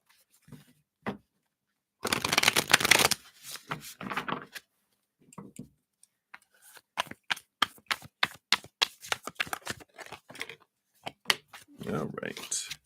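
Tarot cards are shuffled by hand at close range, with a dense riffling burst followed by a string of sharp, irregular card slaps and taps that are crisp and dry.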